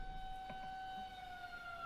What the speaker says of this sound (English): See, sirens, every time I hear them, it got me messed up now.